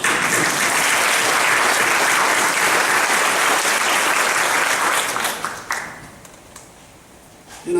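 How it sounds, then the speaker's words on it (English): A church congregation breaks into loud, sustained applause that fills the sanctuary, then thins out and fades to a few scattered claps near the end. "I think that deserves a round of applause."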